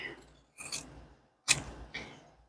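Scissors snip through fabric while cutting out circles for a sewn zip bag, a few short crisp cuts spaced apart with brief silences between, close up and fairly quiet.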